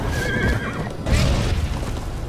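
A horse whinnies loudly over a dense rumble of hooves and game noise in Minecraft: Story Mode, then a heavy thud and continued galloping clatter.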